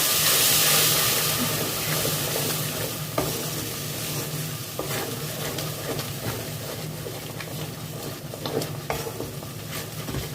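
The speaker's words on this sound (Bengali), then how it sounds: "ভালো করে মশলাগুলো কষিয়ে নিচ্ছি" Spices for a prawn malai curry, with curd mixed in, are stir-fried in a pan: a steady close sizzle and hiss under repeated scraping and stirring strokes, loudest at the start and then settling to an even frying crackle.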